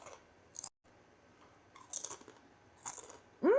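Crunchy Indian chips seasoned with garlic, chili powder, turmeric and tomato are chewed close up in a few short crisp bursts separated by quiet pauses.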